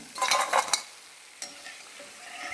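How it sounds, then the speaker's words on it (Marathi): Homemade nachos frying in hot oil, a near sizzling hiss with bursts of bubbling and stirring that rise strongly at first, then settle into a quieter steady crackle. "इथे मी छान त्यांचे तळून घेतले हे बघू शकता छान कलर आला आहे"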